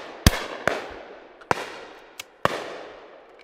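Shotgun shots fired at clay targets at an outdoor shooting ground: sharp, loud reports spaced unevenly across a few seconds, each followed by a long decaying echo, with a couple of fainter distant shots between them.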